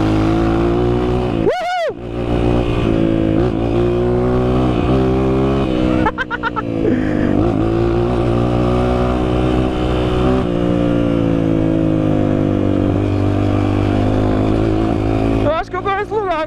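A Honda CRF 230 trail motorcycle engine runs loud and close on a dirt trail, a sustained buzzing drone whose pitch rises and falls with throttle changes, with a few brief dropouts.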